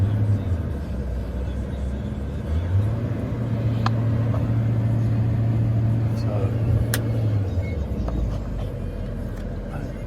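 A 2006 GMC C5500 Topkick 4x4 service truck with a Duramax diesel idles steadily with a low, continuous rumble, its pitch rising slightly for several seconds in the middle as the idle is raised.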